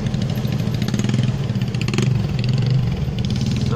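Motorcycles roll past on a busy road, a steady close engine drone with a slight swell as one revs louder near the middle, continuous with no talk over it.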